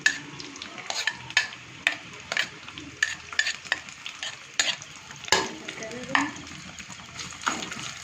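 Onions and a couple of green chillies frying in hot oil with mustard seeds, cumin and peanuts for rotte khichdi, with a spoon stirring and scraping the pan in repeated sharp clinks over a steady sizzle.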